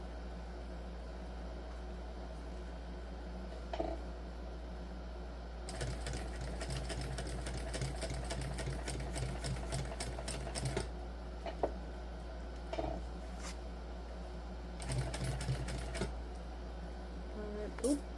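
A sewing machine stitches a crossbody bag in rapid ticking bursts that stop and start over a low steady hum, with quiet talk in between as the bobbin thread runs out.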